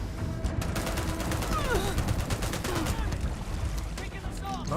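Rapid gunfire in the Starfield space video game, a dense continuous barrage of shots with whooshing effects layered over it and speech-like voices mixed in.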